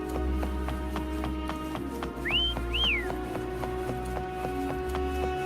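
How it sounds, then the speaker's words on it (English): Two short rising whistles ring out in Wuthering Waves over a steady rhythmic clip-clop of hooves and a low engine-like hum. "Try whistling."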